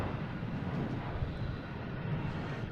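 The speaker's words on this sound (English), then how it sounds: "Heading to Detroit, A220, flight 2737." A JetBlue Airbus A220 airliner at Boston Logan rumbles in a low, steady wash of engine noise, distant and fairly faint, with no voices over it.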